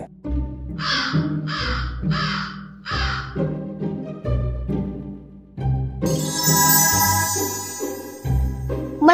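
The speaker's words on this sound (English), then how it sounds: "Crow" Crow caws in a Halloween setting, several harsh calls repeating in quick succession over a steady musical backing, with a bright jingling layer coming in toward the end.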